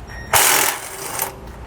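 A ratchet fitted with a 13mm socket loosens a bolt on a bracket of a 2004 Fleetwood, giving one close, loud burst of rapid clicking that lasts about a second.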